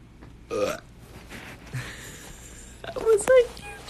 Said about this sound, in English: was a huge burp